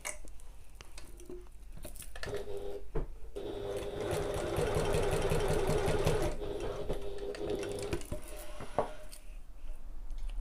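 A domestic sewing machine stitches fabric in a sustained run of rapid mechanical chatter lasting several seconds, framed by a few short starts and stops, close and moderately loud with no talking.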